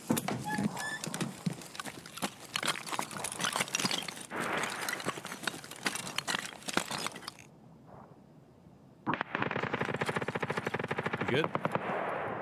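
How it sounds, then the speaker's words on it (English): Rapid bursts of video game gunfire crackle through most of the stretch, loud and dense, dropping out briefly before another close volley resumes; a player's voice can be heard in the mix. "I was just shooting at him"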